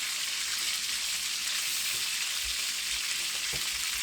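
Food frying in a pan during street cooking in Kingston, Jamaica: a steady close sizzle with occasional stirring knocks, no talking.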